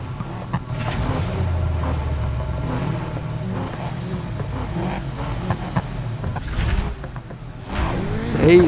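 Race car engines in the Need for Speed Heat video game roar and rev continuously, with the pitch rising and falling as a car accelerates and shifts, and a louder surge at the close.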